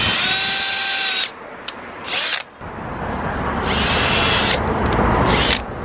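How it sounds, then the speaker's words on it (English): Power drill boring through a car's front bumper during a GT3-style bumper fitting on a G35, loud whining bursts of drilling that start and stop several times, close up with no talk. "So just line it up and drill through."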